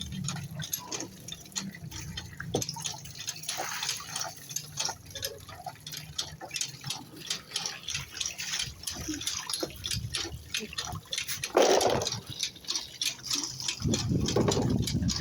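Fresh water is poured into a container of soaking lukan shellfish to replace the old water, giving busy splashing and trickling with small clicks and drips and a louder gushing fill toward the end.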